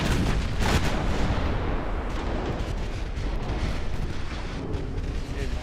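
A torpedo detonation on a warship in Ultimate Admiral Dreadnoughts sounds as a sustained, heavy rumbling blast, loud and close, with a dense roar holding steady for several seconds and no voices.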